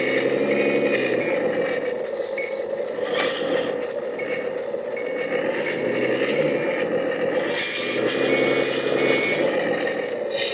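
Engine sound from an RC16 soundboard in a JZM 580 RC hydraulic loader model: a continuous synthetic diesel drone with a steady tone, broken by brief hissing bursts, and reversing beeps over it.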